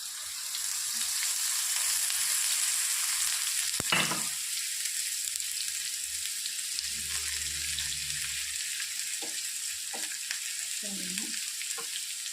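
Steady oily sizzle of onions frying for chicken curry runs throughout, with a few clatters and scrapes of stirring along the way.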